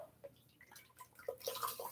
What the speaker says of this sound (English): I'm going to fill my bowl. It's a clear plastic bowl. I'm going to fill it with my hot water.